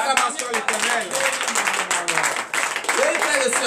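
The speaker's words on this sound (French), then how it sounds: "Donnez une vive acclamation à l'Éternel." A church congregation at a morning prayer service claps and acclaims, a dense wash of hand claps blending with voices raised over it throughout.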